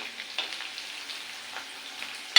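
Ginger and garlic fry in a pan while being stirred, giving a soft, steady sizzle with occasional scraping strokes and a sharp clink at the very end.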